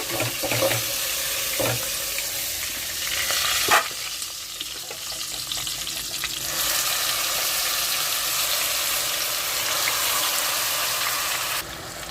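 Loud continuous sizzling of onion paste with curry leaves, ginger and garlic frying in hot oil, with a few clinks and stirring knocks early on, steady throughout and close by.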